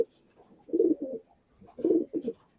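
Racing pigeons in a loft give two close, soft throaty coos, each a low rolling burst followed by a shorter one, with quiet pauses between and no talking.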